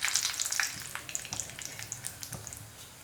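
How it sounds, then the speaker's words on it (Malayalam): Mustard seeds, fenugreek and dried red chilies crackle and sizzle in hot oil in a small tempering pan, with sharp spitting pops over a steady hiss, close and fairly quiet. "ഇപ്പോൾ കടുകൊക്കെ പൊട്ടി വന്നിട്ടുണ്ട്. ഇനി നമുക്കിതിലേക്ക് വറ്റൽമുളക് ഇട്ട് കൊടുക്കാം."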